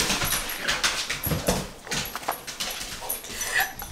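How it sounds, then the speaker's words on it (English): A dog plays fetch indoors, with quick paw scrabbles, knocks and thumps on the floor and a few soft whines. The sounds are close and irregular. "that was the dog, and he's playing fetch in the house"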